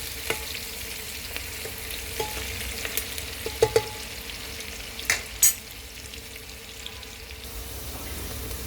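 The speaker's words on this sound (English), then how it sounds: "इसको हम अच्छे से गोल्डन ब्राउन करेंगे" Onions fry in a pan toward golden brown for mutton pulao, a low steady sizzle with a few soft clinks and scrapes rising above it, fairly quiet and without talk.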